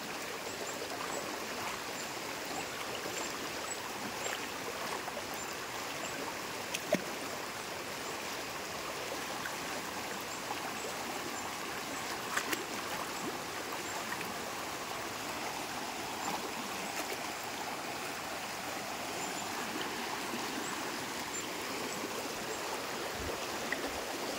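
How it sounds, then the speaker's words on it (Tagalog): Fast-flowing stream water rushes steadily and loudly throughout, a constant broadband churn with occasional small splashes. "Lakas ng agos ng tubig oh."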